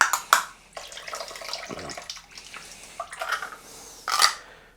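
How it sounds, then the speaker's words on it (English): Liquid drains from an opened tin of green lentils into a sink, with intermittent splashing and dribbling in short bursts, close and moderately loud, with no talking. "just gonna drain this fast"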